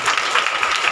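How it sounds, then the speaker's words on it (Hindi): Applause and hand clapping from a congregation during a Hindi Bible study gathering, a steady dense patter of many hands filling the whole second without any voices over it. "ताली बजा कर"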